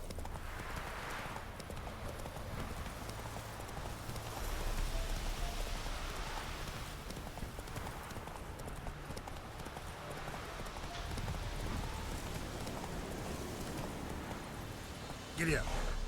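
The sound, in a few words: horse hooves galloping in video game Witcher 3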